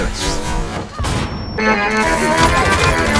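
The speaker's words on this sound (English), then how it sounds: "Throwing flashbang." A flashbang grenade goes off in a video game as a loud, dense burst with crashing impacts and a high ringing tone. Heavy gunfire-like noise follows and fills the whole moment.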